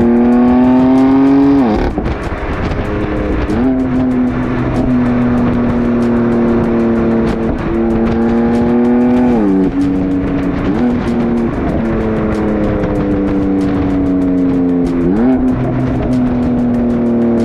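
A loud, close BMW M3 Competition F80 engine revs and holds a rasping high pitch, dropping briefly between repeated surges as gears shift.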